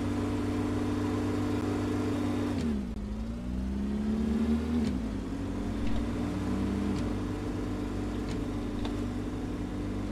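Tiny, slow cars with small engines in a Brick Rigs video game drag race, whirring and revving in steady droning tones that drop sharply as a gear shifts, then climb again, with brief sounds of players talking.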